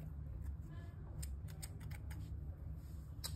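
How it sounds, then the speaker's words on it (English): Dull scissors cutting crochet yarn from finished work, several faint, quick snips in a quiet room with a low hum beneath. "My scissors are a bit dull"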